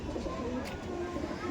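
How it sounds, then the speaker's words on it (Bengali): House pigeons of the Malbai breed cooing in a loft, soft low murmuring coos over a noisy room background with faint voices in the distance. "এগুলো সব বাড়ির পায়রা"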